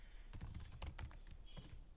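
Rapid clattering keystrokes on a computer keyboard as a folder is created for JavaScript coding, quiet and close, in a quick burst of irregular taps.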